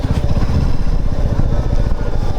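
Motorcycle engine running while riding, a loud close rapid throbbing exhaust pulse with steady low rumble and no talk.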